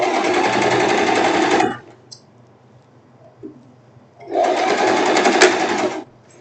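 A sewing machine runs a straight seam on a silk tank top in two steady, close bursts of rapid stitching, separated by a quiet pause of a couple of seconds.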